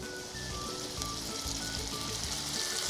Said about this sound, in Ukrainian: Тепер ми достали картопельку, розогріваємо сковороду та вливаємо цю глазурь